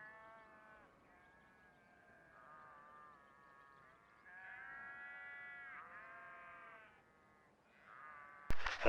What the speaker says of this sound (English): we had the sheep gathered into a tight bunch to work on them